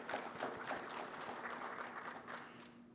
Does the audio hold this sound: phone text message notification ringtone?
no